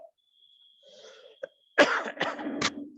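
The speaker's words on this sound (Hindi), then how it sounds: "कभी कभी खांसी परेशान करती है" A man coughs in a quiet room during a spoken Hindi discourse, a faint throat sound first, then a cluster of three or four harsh, loud coughs close to the microphone.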